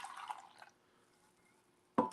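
Coffee poured from a small pot into a Festool mug: a brief splash and trickle of liquid near the end, after a stretch of near silence.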